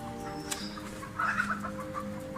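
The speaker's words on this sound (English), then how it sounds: "what's that? Chicken. You have chickens down there?" Chickens cluck from somewhere below a hiking trail in a mossy highland forest, a few soft, fairly distant calls over steady background ambience, with a slightly louder burst midway.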